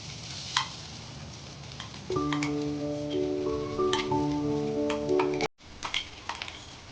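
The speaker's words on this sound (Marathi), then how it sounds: "हे आपण तुपात परतून घेणार आहोत।" Green pea paste for halwa sautés in ghee, with a soft sizzle and intermittent spoon scraping and clinks against the pan, rising when the paste goes in, then a brief cut to quieter stirring, no talk.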